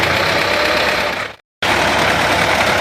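A loud, heavy tractor engine drones and labors under strain with a rough, knocking rumble, cutting out briefly for a moment before resuming at full strength.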